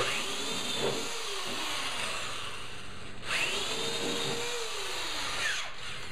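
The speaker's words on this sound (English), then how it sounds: "if you hold the drill steady and you start slow, it should be fine." Close, loud whine of a power drill boring into wood with a spade bit, the motor pitch dipping and rising as it bites and restarts.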